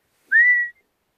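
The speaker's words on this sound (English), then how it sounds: "using a whistle, just one single whistle" A single gundog training whistle, given to call a Labrador puppy, sounds once as a clear, steady, fairly loud tone lasting under half a second.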